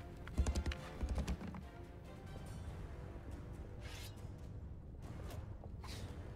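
Horse hooves clip-clopping in the medieval combat game Mount & Blade II: Bannerlord, two short bursts of quick hoofbeats up close, then a quieter stretch of ambient noise with faint swishes.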